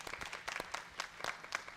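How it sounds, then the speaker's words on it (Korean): A church congregation applauds in welcome, a steady patter of many hands clapping at moderate distance with no talking over it. "우리 박수로 환영하고 축복합니다"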